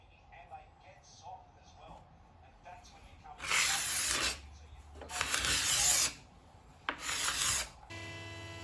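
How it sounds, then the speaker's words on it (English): A card scraper drags across old wood boards to strip their old finish, giving several loud, rough rasping strokes separated by pauses, with quieter scraping and handling noises between them. "I ended up finishing them off with a card scraper, which had no problem removing the old finish."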